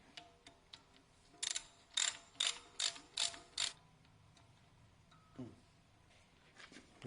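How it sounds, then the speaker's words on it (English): Metal ratcheting clicks from a tool tightening the top nut on an Apache RR310 motorcycle front fork, a quick burst of about six sharp, close clicks in the middle, with a few softer taps before and after. "Now tighten the top nut till hand tight."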